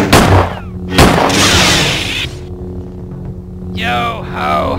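A musket gunshot sound effect in a Halloween story: a sharp loud blast near the start, followed by a second burst and a noisy rumbling tail. Speech-like voices and whooshing tones come in afterward.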